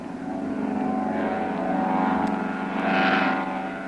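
A propeller seaplane's engine drones steadily and loudly, swelling toward the end as the aircraft accelerates across the water to take off.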